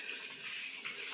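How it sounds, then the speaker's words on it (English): Tap water runs steadily in a kitchen as hands are rinsed, a continuous close hiss and splash without speech. "Let me just rinse my hands"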